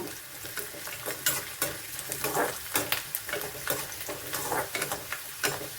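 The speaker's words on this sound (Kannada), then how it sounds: "ಶುಂಠಿ ಬೆಳ್ಳುಳ್ಳಿ ಒಂದು ಸ್ವಲ್ಪ ಕೆಂಪಗಾಗೋವರೆಗೂ ಹುರ್ಕೋಬೇಕು." Ginger and garlic frying in a pan for a country-style chicken sambar, with steady crackling sizzle and repeated stirring scrapes, close and continuous with no talking.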